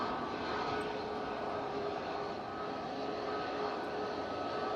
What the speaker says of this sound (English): It is the SAS coming in from Oslo using their A320neo.